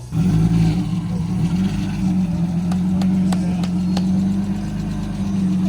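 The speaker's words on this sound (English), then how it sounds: "That's probably just valve tick." A car engine with possible vacuum leaks and an EGR fault idles close by with a steady low drone, while a few sharp ticks stand out near the middle.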